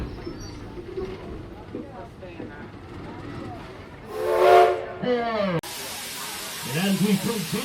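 A loud steam locomotive whistle on the Henry Ford village train blows partway through over crowd chatter and rumbling background noise.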